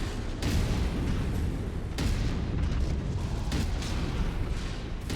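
Internal ammo explosion of a mech in the video game MechWarrior 5: dense, booming blasts with sharp bursts near the start, middle and later, loud and continuous with no voices.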